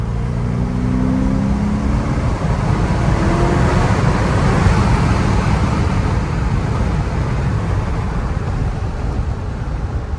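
A supercharged C5 Corvette accelerates in third gear, a loud, steady low engine drone and road roar heard from inside the car, with a rising whine, holding strong for the whole stretch.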